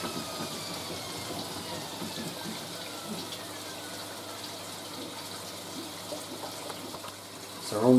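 Water pours steadily into a vintage 1970s Hoover A3060 twin tub washing machine as it fills. The rush is constant and moderate, close by, with a brief louder splash at the very end.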